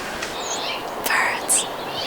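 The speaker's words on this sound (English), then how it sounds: "Birds." Small birds chirping nearby with brief high tweets over a busy background, a few distinct calls standing out as people talk softly.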